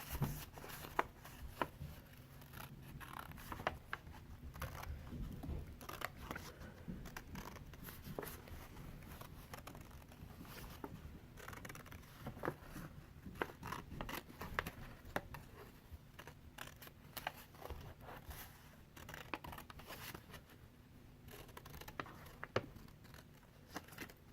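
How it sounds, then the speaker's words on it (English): Paper shapes being cut out by hand with scissors, a quiet, close, steady run of small snips and paper rustles with no talking. "Now I'm going to cut these out."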